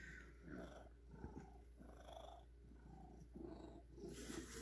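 Cat purring close up, soft rhythmic rumbling breaths in a quiet room, faint and steady, with a brief louder rustle at the very end.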